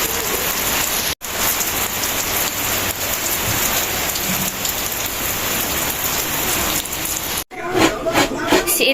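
Heavy rain pours steadily in a dense, loud hiss of drops on surfaces, continuous throughout with two brief cuts, and scattered clatter toward the end.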